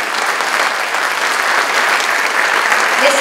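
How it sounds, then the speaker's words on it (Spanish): Steady, dense applause from an audience at a church restoration presentation ceremony in Spain, loud and continuous throughout with no pauses. "También vamos a brindarles a todos un fuerte aplauso"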